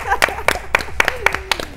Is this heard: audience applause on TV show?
yes